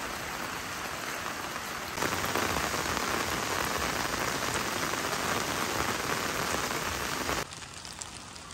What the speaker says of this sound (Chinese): 雨好大